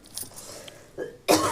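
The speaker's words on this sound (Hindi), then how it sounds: "वो किचन का भी स्मेल आ रहा है तो मुझे खांसी आ रही है।" A few faint scuffs, then a single sharp cough close to the listener, with no talking.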